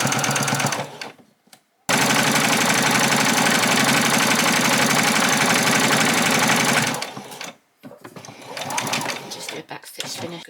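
A sewing machine stitching apron fabric, running in a long continuous burst after a few brief starts, then slowing into short stop-start stitches for a back stitch, with a person talking at moments.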